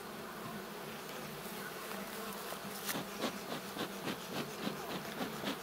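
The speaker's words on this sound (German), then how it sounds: "dann ist die Bienenmasse noch mal um einiges stärker in meinem Sammelbrutableger" Honeybees buzz steadily in a nucleus colony built up as a combined brood split, a dense, close insect drone with faint wooden knocks and rubbing toward the end.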